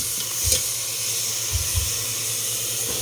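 Rice sautéed in a cooking pot, giving a steady close sizzle and hiss with a few soft low thumps of stirring, no talking.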